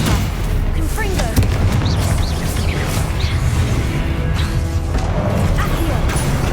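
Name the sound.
spell-casting combat effects in the video game Hogwarts Legacy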